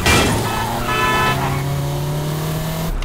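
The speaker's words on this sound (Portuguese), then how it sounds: "As buzinas também, ó." Car horns from a remastered sound pack for the game GTA San Andreas, a sustained steady honk held for about three seconds over a loud vehicle engine drone, then cut off sharply.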